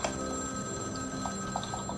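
Telephone ringing in the video game Vampire: The Masquerade – Bloodlines, a steady electronic ring with thin bell-like tones over a constant ambient hum, moderately loud and with no talk.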